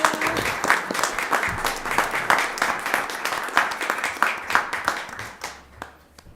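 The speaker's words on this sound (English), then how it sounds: "Let's give them another round of applause." Audience applause at a Basalt town council meeting: a dense, steady round of clapping from a small crowd in a meeting room, thinning out and fading toward the end.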